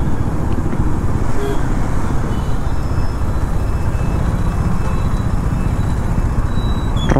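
Steady road traffic noise during a solo motorcycle ride in Vijayawada, a continuous loud wash of passing cars and engines with wind rumble, no break throughout.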